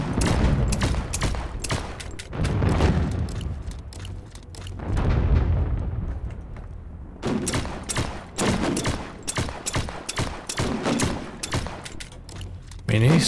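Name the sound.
turret gunfire in video game The Signal From Tölva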